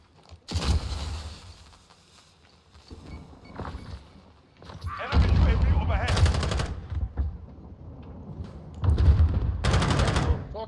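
Video game gunfire from Call of Duty Modern Warfare in a hardcore Kill Confirmed match on the Talsik Backlot map, bursts of automatic fire in several loud clusters with quieter gaps and faint voices.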